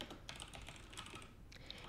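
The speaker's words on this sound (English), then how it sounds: "Notice how if I start typing" Typing on a computer keyboard while working in Trados translation software, with a steady run of quick, light key clicks, close and fairly quiet, with no talk.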